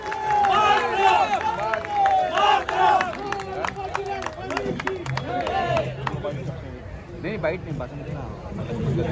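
A crowd at Maharana Pratap sports ground claps and shouts for minister Mangal Prabhat Lodha and MP Gopal Shetty as they are honoured. The clapping and cheering are loud and close, mixed with voices, and ease off toward the end.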